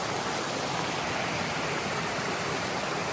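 Steady, close rush of water cascading down rocks on Mt. Moosilauke, a constant broadband hiss with no voices.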